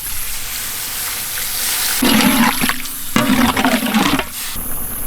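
Water is poured into frying masala for a village-style pork fry, making two splashy, hissing pours in a row, each lasting about a second, over a quiet kitchen background.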